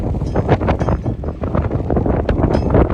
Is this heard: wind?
yes